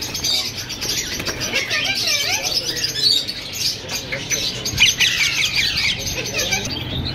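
Parrots, including yellow ring-necked birds, call constantly at a Sunday bird market in Bahawalpur, a dense chatter of squawks and chirps close by, with faint voices mixed in.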